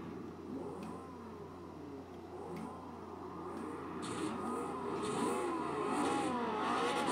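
A car engine in the Forza Horizon 4 racing game roars steadily while racing through traffic on the Nurburgring, the revving tone rising gradually and growing slightly louder.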